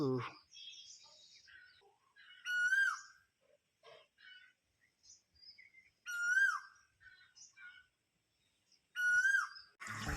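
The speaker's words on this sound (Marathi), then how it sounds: "तर बघा कोकीळ पक्षी ओरडते कसा" An Asian koel calling in a village in May, repeated rising whistled notes at a moderate distance, with other birds chirping softly in between.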